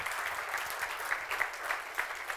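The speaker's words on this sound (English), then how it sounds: "One more round of applause for him." Applause from a live conference audience at an unconference event, dense, steady clapping throughout with a few sharper claps standing out, moderately close and continuing without any speech.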